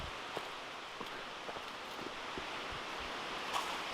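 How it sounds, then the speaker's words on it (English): A small waterfall or stream at Victor Falls near Bonney Lake, Washington, flows in a steady, soft, even rush that stays constant and fairly faint throughout, with no voices over it. "It's a mini waterfall"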